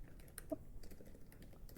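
Keys tapped on a computer keyboard to enter a command in Windows: quick, irregular, soft clicks in a quiet room, close by with no talking.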